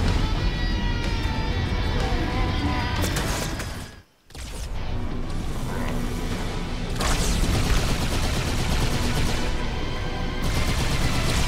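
Sustained Halo 2 Anniversary gunfire fills the game battle, rapid automatic bursts and heavy firing running almost continuously, dropping out briefly near the middle before resuming at full intensity.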